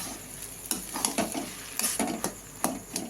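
Taro flowers cooking in a pan, stirred with a utensil that scrapes and clinks against the metal in a few irregular strokes over a soft, steady sizzle, close by with no talking.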